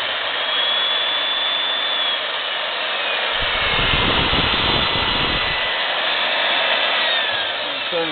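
Milwaukee 4210-1 drill press runs in reverse, a steady high motor whine with a rougher low-frequency surge for a couple of seconds midway, with no voices.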